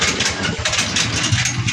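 Coleman 3.5 gasoline engine running steadily, a close, loud, rhythmic low chugging idle.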